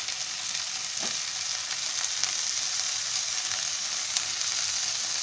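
Mixed vegetables, including French beans, cluster beans and flat beans, fry in a pan for a Bhogi mixed vegetable dish, giving a steady, fairly soft sizzle with a few faint clinks, and no talking.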